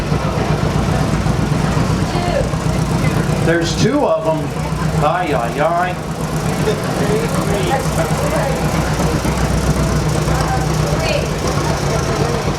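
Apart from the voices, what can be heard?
John Deere tractor engine passing by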